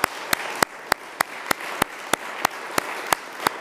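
Audience at an EU strategic foresight conference gives colleagues a round of applause, heard as a steady, moderate clatter of many hands with sharp individual claps popping out at a regular pace throughout.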